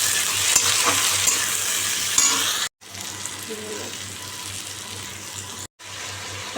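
Rice and onion frying together in a home kitchen pan, a steady loud sizzle with stirring scrapes running throughout, broken by two brief silent gaps.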